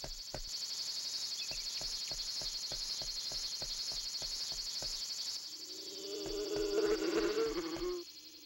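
Steady insect buzzing from a swarm of bees around a large beehive in Boku no Natsuyasumi, a continuous high drone with rhythmic soft ticks, joined near the end by a louder, lower burst of buzzing.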